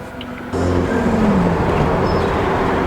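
A BMW F30 with a B48 engine and an MST Performance intake gives a steady, close engine and air roar that swells suddenly after a quiet start and holds loud to the end.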